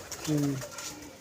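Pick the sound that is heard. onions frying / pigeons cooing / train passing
pigeons cooing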